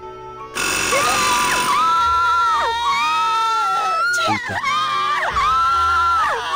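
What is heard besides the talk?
children screaming in Grim Fandango video game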